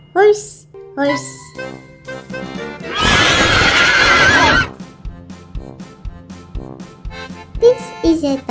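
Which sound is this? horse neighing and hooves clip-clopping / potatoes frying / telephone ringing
horse neighing and hooves clip-clopping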